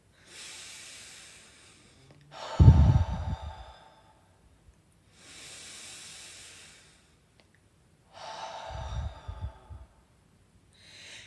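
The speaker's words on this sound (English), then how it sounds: "give me 2 belly breaths, please" Two slow, deep belly breaths taken during a stretching routine, each a soft nasal inhale followed by a louder, gusty exhale through the mouth, close and quiet with pauses between.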